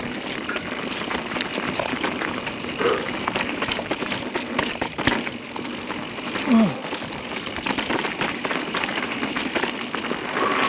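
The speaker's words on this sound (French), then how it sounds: "là ça commence à pleuvoir grave" Heavy rain pours steadily during a descent down a black-run ski slope, a dense hissing wash with constant patter throughout and a brief louder bump partway through.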